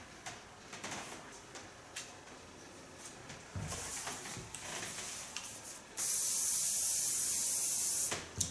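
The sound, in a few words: spraying conditioner spray on hair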